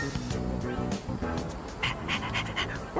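A stray dog in the video game Persona 3 Reload gives soft panting and short whimpery yips over steady game background music, brief and moderately quiet.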